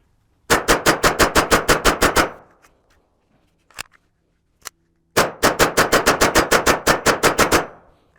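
A Walther WMP .22 Magnum pistol fires two rapid strings of about eight to ten loud, sharp shots each, separated by a pause with a few faint clicks and handling noises.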